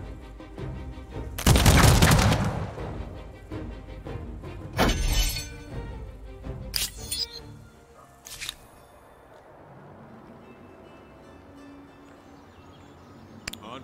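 A loud volley of rifle fire bursts out in the strategy video game Humankind, then a second shorter salvo follows, with scattered sharper cracks trailing off into quieter battlefield ambience.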